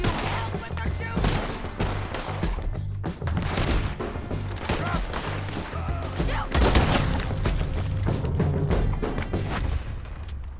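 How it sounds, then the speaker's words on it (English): Rapid gunfire in Red Dead Redemption 2, a loud, dense barrage of overlapping shots and heavy thuds crackling continuously over a low rumbling background, with brief voices mixed in. "Can you help with the shooting?"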